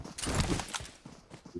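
A horse's hooves clip-clop in quick, close steps in the BGMI battle royale mobile game, a short burst of rhythmic thuds.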